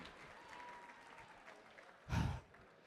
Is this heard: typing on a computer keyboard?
no